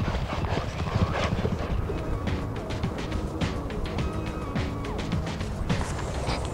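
Racehorses canter up the rail on a training gallop at a racing yard, giving a steady rhythm of hoofbeats on turf with clattering tack, fairly close and continuous with no talk.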